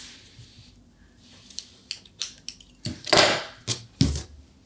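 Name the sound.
cutting yarn with scissors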